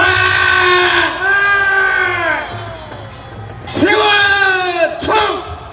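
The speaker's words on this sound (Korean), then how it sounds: "큰 함성과 박수 한번 해주십시오." A crowd at an outdoor political rally roars and yells loudly in sustained waves, with cheering, applause and a few sharp bursts.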